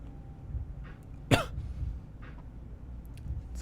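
A single sharp cough rings out once in a quiet room, with faint soft background noise before and after.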